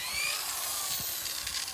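A power drill with a 5/16 inch bit and a drill stop bores 1.5 inches deep into a wood log for shiitake mushroom growing, a brief continuous high whir heard close up and alone.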